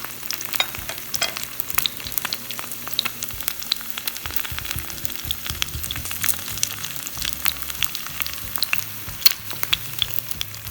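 An egg frying in a pan as a topping for Indonesian nasi goreng, a steady close crackling sizzle with dense popping spatters throughout, loud and without any voices.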